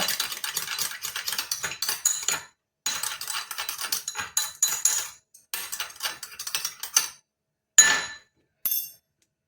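Spoon mixing yogurt and honey in a bowl: repeated close, soft scraping and clinking strokes in uneven bursts with short pauses, fading to a couple of final taps.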